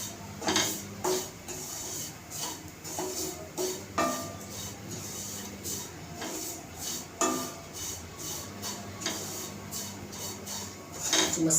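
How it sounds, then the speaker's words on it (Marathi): Vermicelli roasting in ghee in a pan, heard as a steady soft sizzle with repeated scraping and clinking of a spoon against the pan, close by and without speech. "आपल्याला अशी तुपामध्ये गरम करायची अशी मस्त थोडीशी भाजून घ्यायची"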